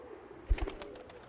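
A racing pigeon coos once in a short, soft burst near the middle, close by against a quiet loft background.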